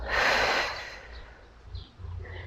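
A deep, forceful exhale through the nose and mouth during a pregnancy breathing exercise, one strong close breath at the start that fades into quieter breathing.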